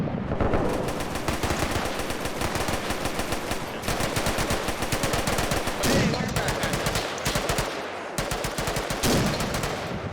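Sustained bursts of machine gun fire and rifle shots in a WW2 battle game set with ANZAC troops against Italians in Ethiopia, dense rapid rattling with short pauses, loud and continuous for the whole stretch.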